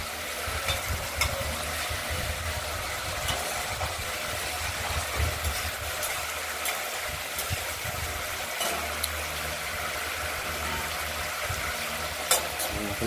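Spice paste for a rohu fish curry, made without onion or garlic, sizzles steadily in hot oil, with occasional stirring scrapes and a few sharp clicks over a constant frying hiss.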